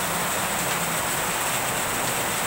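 Heavy rain pours steadily onto surfaces in a loud, dense, unbroken hiss that holds close and even throughout, with no voices.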